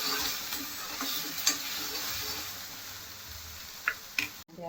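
Onions and green chillies sautéing in a pan for a pea and potato sandwich filling, a soft continuous sizzle with a few sharp stirring clicks and scrapes, no talking.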